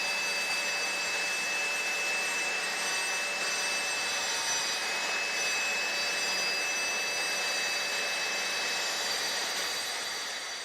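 A GMC MS018 laminate saw cutting a workpiece, a steady high whine of the motor and blade running continuously at an even level for the whole stretch, with a thin constant tone over the whir.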